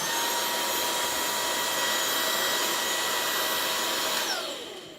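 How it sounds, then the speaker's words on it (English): A Brigii MX30 handheld vacuum runs with a steady, loud, high-pitched whirring whine close by, then winds down as the motor is switched off near the end. "Sounds like a Brigii vacuum."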